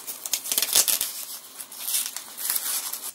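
Acoustic tape crackles and rips as it is pulled off a roll and torn during attic ceiling installation, a series of crinkly bursts with no talking.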